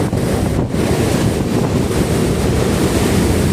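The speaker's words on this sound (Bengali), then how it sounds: "এই দেখো কিরকম জলের স্রোত" Water rushes steadily through the open gates of the Farakka Barrage, a loud, continuous broadband roar with wind buffeting the microphone throughout and no voices.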